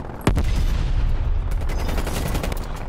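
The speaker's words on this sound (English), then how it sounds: "Hostile sentry turret active." Hostile sentry turret in Call of Duty Cold War opens fire with a sharp first shot, then keeps up sustained, dense automatic fire at steady loudness for several seconds without a break.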